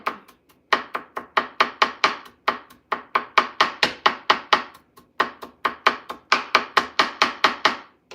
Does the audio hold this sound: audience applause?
no